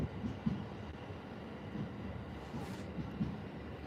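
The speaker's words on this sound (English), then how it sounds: "The train always slows down here," A Japanese commuter train runs on the line from Ikebukuro toward Kumagaya, heard from inside as a steady low rumble with a few soft wheel thumps and no talk.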